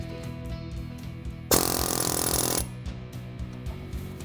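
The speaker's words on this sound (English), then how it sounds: "you just need to take the air hammer variant from BGS Technique" A BGS Technique pneumatic air hammer drives a fork-type separator on a vehicle's suspension joint, giving one loud, harsh rattling burst of about a second that stands out sharply against a quieter background of music.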